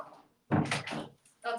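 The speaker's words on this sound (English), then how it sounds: "Sorry guys, let me close my door." A home door swings shut in a couple of soft bumps and shuffles, close by, following a quiet pause while someone is speaking.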